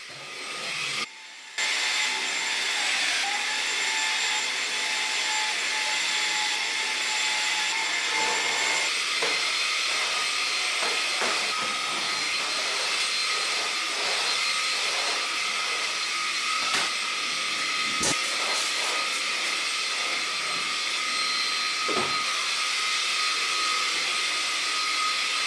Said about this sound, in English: I'm going to vacuum all of the hard floors across the entire downstairs of the house.